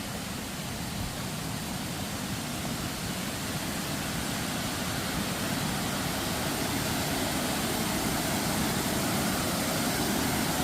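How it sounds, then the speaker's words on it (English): A waterfall pours in a constant, dense roar of rushing water, steady and unbroken from start to finish with no voices over it. "we're pulling up on the first waterfall of today"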